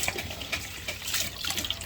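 Tap water runs steadily into a kitchen sink while raw shrimp are washed by hand, a close, continuous splashing hiss with small swishes; no talking.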